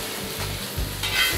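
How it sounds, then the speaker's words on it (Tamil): Tamil fish curry, meen kulambu, bubbling and sizzling in a pan, with close, crackling, uneven bursts of boiling and a brief stirring sound. "குழம்பு நல்லா கொதிச்சிருச்சு"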